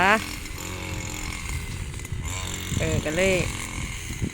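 A steady, droning brush cutter engine runs throughout while someone talks over it, cutting grass for cattle.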